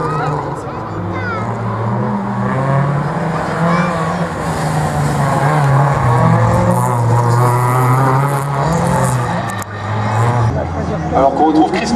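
Renault Clio Williams, car number 36, driven hard on a slalom course, engine droning steadily with rising and falling revs throughout, a commentator's voice running over the top the whole time.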